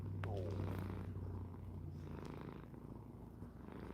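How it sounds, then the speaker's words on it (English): Low, steady purring from a cat resting close by with a paw on someone's arm, a continuous rumble running through the whole stretch and fairly near. "Can y'all hear him purring?"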